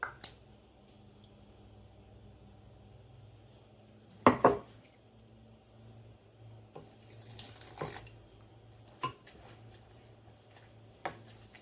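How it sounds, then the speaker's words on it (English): Water runs and splashes as it is poured into a bowl of doughnut dough, faint and close, with a sharper splash and a few soft drips and clinks. "you're just going to pour in more water"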